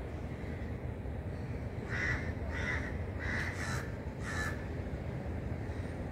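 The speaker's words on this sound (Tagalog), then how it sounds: "Ayan yung mga uwak, oh." Near a rooftop at sunset, crows give a run of about five harsh caws in a loose rhythm over a couple of seconds, fairly close and clear above a quiet, steady background.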